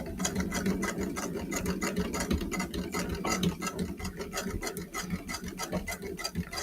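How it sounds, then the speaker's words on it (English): A sewing machine runs steadily while top stitching piping, its needle tapping in a fast, even rhythm at close range with a few brief pauses, fairly quiet and without talk. "just about finished top stitching the piping"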